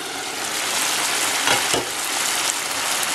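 Sardine and broccoli mixture boiling in a pan, a steady dense bubbling sizzle that runs the whole time at close range, with a couple of brief louder stirs midway and no talking.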